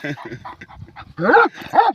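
A dog facing a two-metre snake whimpers and yips in short, strained bursts, ending with two louder, drawn-out whines; a person's voice mixes in at moments.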